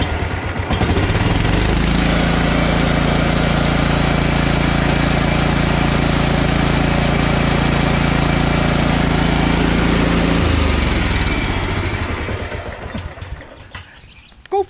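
A Toro LX460 lawn tractor engine runs steadily and loudly at close range for about ten seconds, then cuts off and falls away into quiet.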